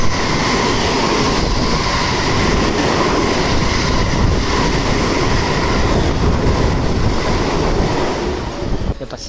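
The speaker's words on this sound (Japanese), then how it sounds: "やっぱ新幹線が間近で通過するのが怖すぎる。" A Shinkansen bullet train rushes past very close to a station platform in Akashi, producing a loud, continuous roaring rumble and rattle for several seconds that eases slightly at the end.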